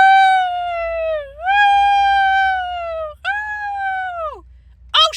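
A person's voice imitating a dog's howl, long, tuneful wavering wails that rise and fall, three drawn-out howls in a row, loud and close, ending in a brief sharp burst.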